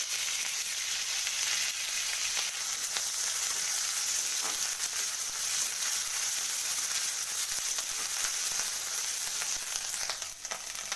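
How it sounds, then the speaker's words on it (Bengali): Ginger and garlic paste sizzles and fries in a pan for a chicken and bottle gourd curry, a steady close hiss with faint stirring scrapes and no talking. "আমি বেটে রাখা আদা রসুনটা দিয়ে দিলাম"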